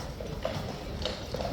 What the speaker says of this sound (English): So watch those horses go in